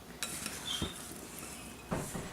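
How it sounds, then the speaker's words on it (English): A spoon stirs potatoes, green beans and corn in olive oil in a pan, with two sharp clinks of utensil on cookware over a soft, steady scraping. "I'm going to just kind of stir these around and see if I can get them covered with olive oil"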